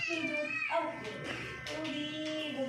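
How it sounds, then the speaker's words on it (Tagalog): A cat meows repeatedly at close range, drawn-out tonal calls with wavering pitch that run almost without pause through the moment, loud and clear against a quiet indoor background. "Yung pusa mo parang palaging gutom."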